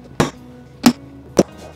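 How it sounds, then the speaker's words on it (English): A center punch is struck three times to mark drill holes on a Ford Bronco tailgate table project. Each tap is a sharp, close metallic hit, spaced about half a second apart, with a brief ring after each one. No one speaks. "Get a center punch and everywhere you mark to drill a hole."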